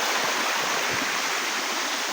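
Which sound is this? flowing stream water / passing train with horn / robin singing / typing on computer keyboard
flowing stream water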